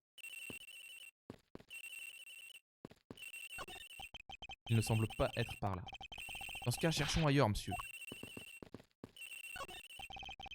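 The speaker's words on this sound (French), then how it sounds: "La sonnerie provient de quelque part ici, monsieur." A mobile phone ringing in the Ace Attorney Investigations video game, a repeating electronic ringtone in steady bursts with gaps, while two voices talk over it.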